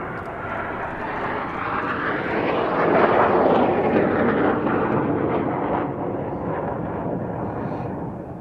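Red Arrows jet formation flying at an airshow, a loud roaring rush that builds to a peak as the jets pass overhead, then recedes into a broad fading rumble.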